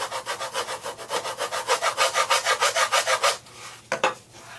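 Wood on the top of an acoustic kirar is smoothed by hand with steady back-and-forth rasping strokes, about a dozen even rhythmic passes close up, then a pause and two brief final scrapes.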